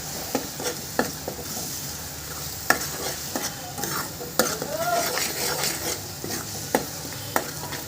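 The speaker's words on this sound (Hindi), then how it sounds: "और सभी मसालों को अच्छे से भून लेंगे।" Ground spices such as turmeric and salt roasting in a pan for stuffed bitter gourd, with a soft continuous sizzle broken by repeated sharp scrapes and clicks of a spoon stirring against the metal.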